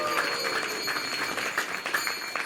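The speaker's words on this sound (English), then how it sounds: "So let's thank her with a round of applause." An audience at an annual day celebration at a Vedic academy gives a steady round of applause, a dense patter of clapping lasting a few seconds.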